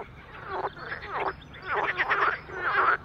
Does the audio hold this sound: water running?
no